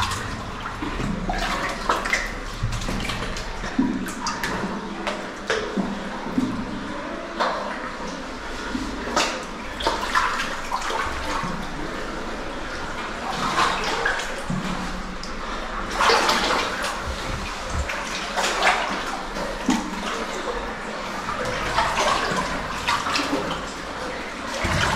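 Water flows and splashes steadily through an underground pipe leading to a river cave, a continuous rushing wash with fluctuating surges and occasional sloshing bursts, fairly close.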